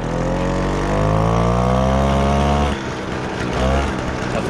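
A Motobécane 88 moped engine, freshly rebuilt and still running in, fires up and runs loud and close with a steady buzzing drone, the pitch climbing briefly before easing to a rougher idle.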